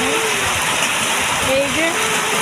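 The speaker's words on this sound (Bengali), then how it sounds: "তবে এখন আবার বৃষ্টি হচ্ছে। এই যে কি পরিমাণ বৃষ্টি দেখতে তো পাচ্ছেন।" Heavy rain pours down steadily over a flooded street, a dense unbroken hiss from start to finish with a voice faintly mixed in.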